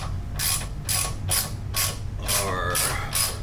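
A hand ratchet clicks in quick, evenly spaced bursts, seven strokes close by, as a stock motor mount is unbolted.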